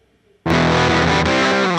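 Heavily distorted electric guitar dialed in within Logic Pro X, tightened by a noise gate; after brief near-silence, a loud sustained chord rings out thick and buzzy without pause.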